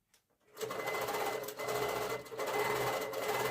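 An HQ Moxie X longarm quilting machine starts up and stitches steadily, a close, continuous rapid mechanical whir with brief dips as it changes direction around the corners.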